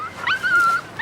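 A dog gives a single drawn-out whimpering whine lasting most of a second, fairly close and alone, in a quiet room.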